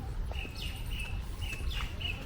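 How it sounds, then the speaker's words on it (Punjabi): Sparrows chirp repeatedly in short, bright tweets over a quiet, low background hum, at Maharaja Ranjit Singh's Summer Palace in Amritsar. "ਆਵਾਜ਼ ਸੁਣ ਆਉਂਦੀ ਹੋਣੀ ਹੈ ਚਿੜੀਆਂ ਦੀ ਮਿੱਠੀ ਮਿੱਠੀ"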